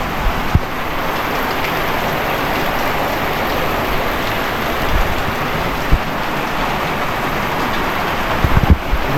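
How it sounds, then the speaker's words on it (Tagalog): Heavy, steady rain pours down across the whole stretch, a dense broadband hiss with occasional louder drips and splashes close by. "Oh, lakas na ng ulan."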